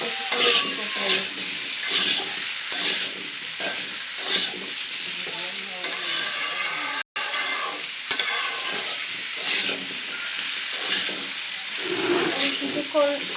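Tilapia fish pieces with turnip, turmeric and salt frying in oil over medium heat, a steady sizzle with repeated stirring scrapes throughout, close and fairly loud, briefly cut by a gap of silence midway.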